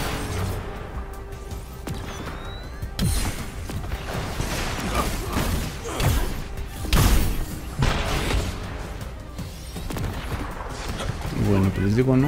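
Rapid bursts of Iron Man's gunfire in the Avengers video game beta crack and boom repeatedly amid mechanical clatter and crashes, with a voice speaking over the action.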